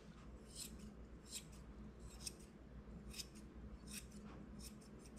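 Scissors trimming the fur of a Golden Retriever, close and quiet, with about six evenly spaced snipping bursts over a faint background hum.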